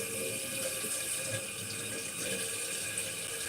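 Tap water runs steadily from a faucet into a sink while tomatoes and onions are rinsed, a constant close, even hiss with no talking over it.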